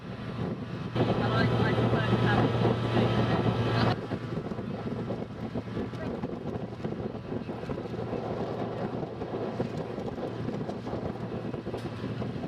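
A boat travels on the river to Niafunke in Mali, a steady engine hum under wind noise, louder for the first few seconds then dropping to a softer continuous drone.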